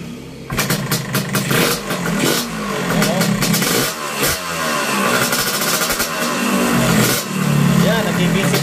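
A Yamaha RXT135 motorcycle engine cranks and catches, then revs up and down loudly and close by, with a steady running roar between throttle bursts.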